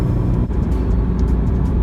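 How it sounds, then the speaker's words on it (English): Steady engine drone and exhaust rumble from inside a moving Subaru BRZ sports car with light sound deadening, low and continuous, fairly loud, with no talking. "the exhaust sounds pretty prominent as well as the engine sound"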